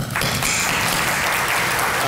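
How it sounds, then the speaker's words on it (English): Graduation audience at Columbia College of Dental Medicine class day breaks into loud, dense applause, many hands clapping together in a full, sustained roar with some voices mixed in. "we offer a round of applause for Mother Nature"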